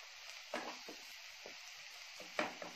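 Tomato, onion and ginger masala sizzles faintly in a pan, with a steady frying hiss broken by a few brief stirring scrapes.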